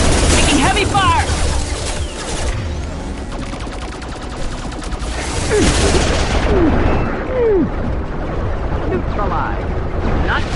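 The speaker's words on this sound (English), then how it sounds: "Taking heavy fire!" Heavy gunfire in a sci-fi video game battle, a dense continuous rattle of shots and booms under loud game sound, with chirpy effects and voices mixed in.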